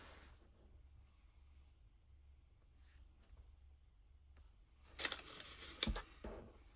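Scissors snip off a scrap of paper in a quiet room, a brief cluster of two or three crisp cuts after a stretch of near silence.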